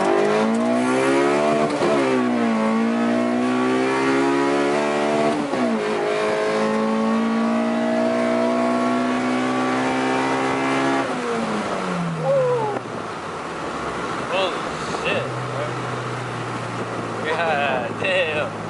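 Nissan SR20VE engine revving hard through rising and falling pulls, its loud raspy tone sweeping up then dropping, followed by a rough lower idle with crackles and pops near the end.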